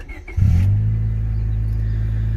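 2000 Honda Civic EX fitted with a ram intake and aftermarket exhaust, heard from inside the car: a quick rev rises into a loud, sustained low engine drone that holds steady at a high level.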